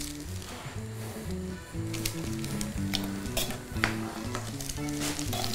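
Butter sizzling in a frying pan for gnocchi marinara, a close, continuous fizzing crackle with scattered sharper pops, heard beneath a steady musical backing.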